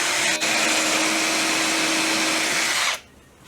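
A power drill fitted with a countersink bit whirs steadily into timber for about three seconds, a loud, close, continuous buzz with a brief dip near the start before cutting off abruptly.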